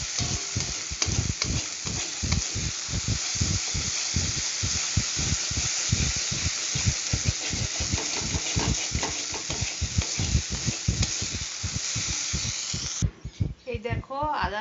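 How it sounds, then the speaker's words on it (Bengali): Ginger garlic paste sautés in hot oil with a continuous sizzle, while a spoon scrapes the pan in a fast, steady rhythm, close and busy throughout. "দেখো আদা রসুনের পেস্টটা। ঠিক এরকমভাবে কষিয়ে নিতে হবে।"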